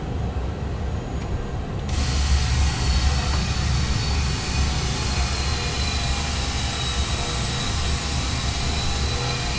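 FSS E-Jet airliner in a flight simulator game with flaps set for landing, a steady loud engine roar and rumble that jumps up after a couple of seconds, then holds constant and steady.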